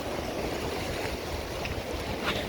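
Waves washing onto a beach beside a river in Mindoro, a continuous hiss and low rumble of surf mixed with wind buffeting the microphone, steady and moderately loud with no talking.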